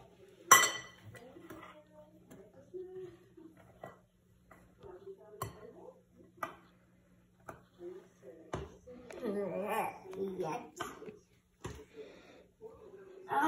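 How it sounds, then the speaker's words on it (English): Christmas cookie dough being mixed in a bowl, heard as intermittent clinks and taps of a utensil against the dish, with a faint hum and people talking quietly in between. "Now you can mix it."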